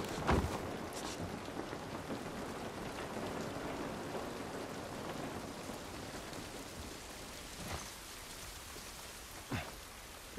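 Steady rain falls in The Last of Us Part 1, a soft continuous patter with a few sharper drips and low rumbles, fairly quiet and free of speech.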